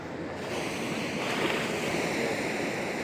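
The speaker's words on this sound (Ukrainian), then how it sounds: "Ви тільки гляньте, яке море." Sea waves wash steadily along the Italian coast near a long pier, a continuous broadband roar of surf with some wind, fairly loud and unbroken throughout.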